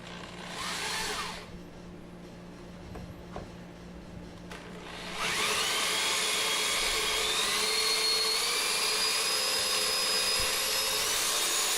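A power tool bores a circular hole through thick plywood, starting with a short burst, then a quieter stretch before a long, loud, sustained whine with rising pitch as the cutter works slowly through the wood.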